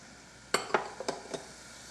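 A utensil stirs sauce with chopped fresh parsley in a pan for a Japanese yakitori tare, giving four or five quick, close scraping clinks against a quiet background.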